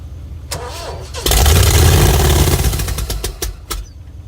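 A Ford 460 V8 with Duraspark ignition, mounted on the ground rather than in a vehicle, cranks briefly, catches with a loud roar and runs rough and close before settling into sharp throttle blips.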